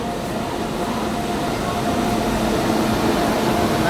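A train hauled by a WAG 9 electric locomotive rumbles past on the Darjeeling Mail route between Haldibari and Sealdah, a steady broadband roar with faint tonal hum that stays loud and close throughout, no voices heard.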